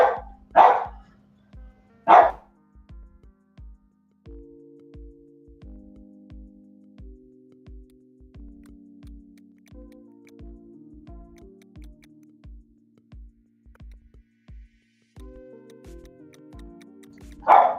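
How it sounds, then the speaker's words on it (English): A dog barks in a few loud, close bursts near the start and again at the end, separated by long quiet stretches filled with faint steady ticking. "Can you talk while the dog's barking?"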